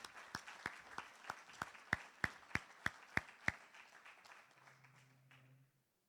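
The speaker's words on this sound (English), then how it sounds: "Everyone, please join me in applauding the next generation of automotive mechanic professionals." A small audience at a signing day for automotive mechanic students gives a sparse round of applause: about a dozen distinct, evenly spaced claps, fairly faint and roomy, fading out toward the end.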